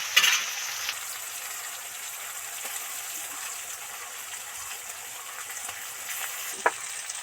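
Ginger garlic paste frying with salted onions in a pan for a fish curry, a steady moderate sizzle throughout, with a faint clink of utensils near the start and another near the end.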